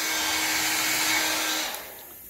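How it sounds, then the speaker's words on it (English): A hair dryer blows steadily and loudly on a pico balloon to warm and stretch its film, a constant whirring rush with a faint hum that cuts off abruptly near the end, leaving quiet room noise. "we're going to help it here a little bit with a hairdryer to get some of these wrinkles out"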